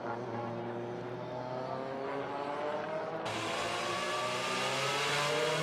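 A Volvo WTCC touring car at qualifying in Russia crosses the line at speed, its engine loud and climbing through the gears in a rising, rasping roar, with no talking.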